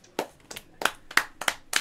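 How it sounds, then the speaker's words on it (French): Hands clapping indoors, about seven separate claps in an uneven rhythm, close and sharp with quiet gaps between them. "on l'applaudit tous les soirs à 20h"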